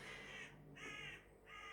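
Crows caw in three drawn-out, harsh calls spaced about half a second apart, fairly close and clear over a low steady background hum, with no talking.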